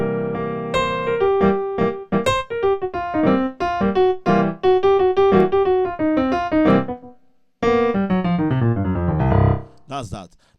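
Piano plays a blues scale run over a dominant chord, a busy flurry of notes with a brief pause before a final rising phrase and a couple of bright closing notes, loud and close with no voices.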